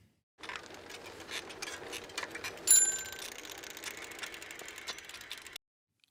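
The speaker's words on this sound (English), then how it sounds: "add that bicycle bell exactly at the point where both bicycle scenes change" A bicycle bell rings, bright metallic chimes over a ratcheting mechanical whir, swelling briefly then ringing on steadily before cutting off.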